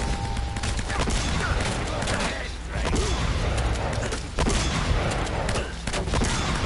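Dense, loud gunfire in the video game Uncharted, with continuous bursts of rounds and overlapping shots through the whole stretch and no talk over it.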